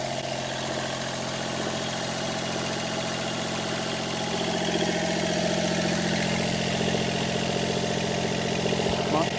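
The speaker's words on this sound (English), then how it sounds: "I throttled it right back to tick over, and then she sorted herself out. But that's running great now." A boat or vehicle engine idles at tick over after being throttled back, a steady low rumbling hum that runs the whole time and swells a little louder midway. It sounds close and continuous, with no talk.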